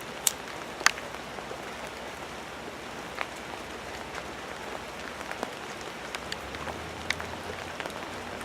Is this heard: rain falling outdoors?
yes